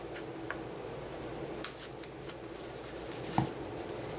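Scissors snipping a small tail off a handmade Halloween craft card, a few quiet, sharp clicks and snips close by in a still room.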